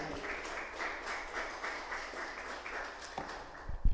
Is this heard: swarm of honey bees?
no